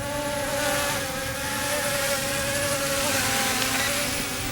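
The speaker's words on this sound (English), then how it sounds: "You can hear the motors trying to compensate for the wind." Tiny motors of a DEERC D20S micro drone whine in a steady high buzz while it hovers outdoors in wind. The tone wavers slightly as they compensate, close and continuous, with some wind rumble against the microphone.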